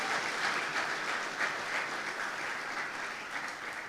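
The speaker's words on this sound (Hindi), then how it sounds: "जोरदार तालियां इस खुदा के लिए।" A church congregation breaks into loud, sustained applause, a dense even roar of many hands clapping together with no voices standing out.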